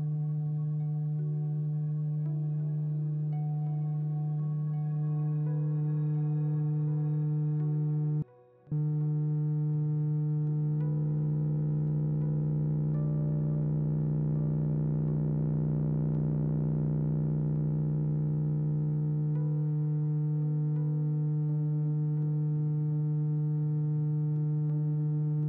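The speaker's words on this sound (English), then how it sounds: "the voltage gets clipped, cutting off the top of the waveform, and that's going to change the quality of the sound" A steady, buzzy electronic tone rich in harmonics, a sine wave clipped at the top of its waveform, drones on, briefly cutting out once, with a harsher, rougher stretch in the middle.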